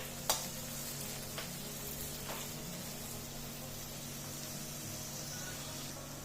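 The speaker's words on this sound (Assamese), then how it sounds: "দি এইখিনিও ভালদৰে ভাজিম।" Tomatoes and other vegetables fry in a pan on a home kitchen stove, giving a soft, continuous sizzle with a few light clicks of a stirring utensil against the pan.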